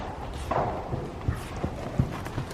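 Hooves of a ridden horse thud softly on arena footing in an irregular clip-clop, muffled and somewhat distant beneath a steady background hiss.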